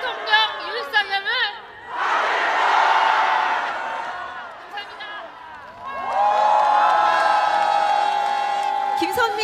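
A large crowd at a political rally protesting Yoon Suk-yeol's release chants a slogan together. Two long, loud waves of massed voices in unison are separated by a brief lull, with some scattered shouting before.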